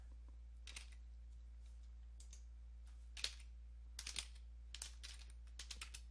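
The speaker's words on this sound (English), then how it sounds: "So you want to type in at this point" Keystrokes on a computer keyboard as a command is entered, faint irregular clicks in small clusters over a low steady hum in a quiet room.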